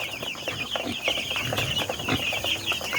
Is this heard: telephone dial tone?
no